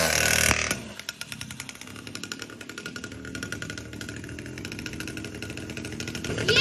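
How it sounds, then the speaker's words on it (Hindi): A new mini superbike's engine revs with a sporty, throaty buzz, a rough, rapidly pulsing exhaust note that rises and falls close to the microphone before climbing again at the end, with no talk over it. "ये सुपर बाइक वाली आवाज है थोड़ी।"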